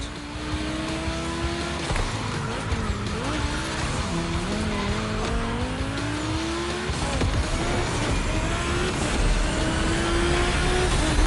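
Race car engines in the video game The Crew Motorfest rev and shift gears continuously during a gymkhana event, pitch climbing and dropping, with tires squealing through the turns.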